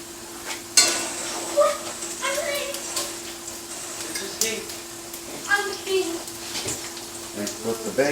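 Bacon frying in a pan for a breakfast sandwich gives a steady close sizzle with occasional crackles and clatter, while a person talks over it.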